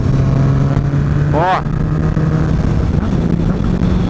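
A car engine revs during heel-and-toe downshifts, a loud continuous mechanical drone with a quick blip of rising revs in the middle while someone talks over it.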